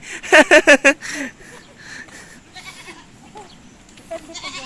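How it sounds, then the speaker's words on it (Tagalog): Several loud goat bleats in quick succession at the start, then fainter bleating and farm noise continuing in the background. "Ang dami yung kambing, grabe."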